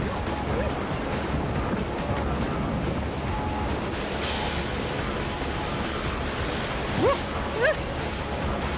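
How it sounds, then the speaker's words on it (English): Choppy, fast-flowing rapids on the Akan River in Hokkaido roar steadily where the swollen river narrows during a canoe descent, a dense continuous wash with a couple of brief brighter splashes near the end. "The river, which is swelled with water as it suddenly narrows, becomes choppy and flows much faster."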